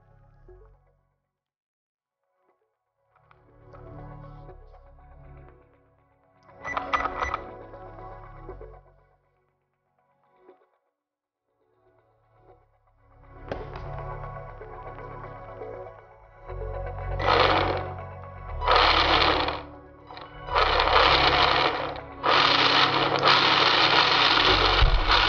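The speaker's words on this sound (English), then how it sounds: "It's not RC car, it's gearbox with wheels." Cheap DC motor with an ESC driving a 3D-printed double-shaft gearbox with wheels, whirring and grinding in short bursts that grow louder and longer toward the end, with brief quiet gaps between runs.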